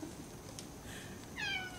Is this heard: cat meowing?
yes